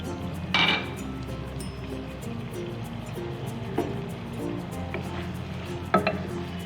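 Tomatoes are stirred into a pot of restaurant-style beef karahi, with scattered metal clinks of a spoon against the pot over a soft background sizzle, a few sharper knocks standing out.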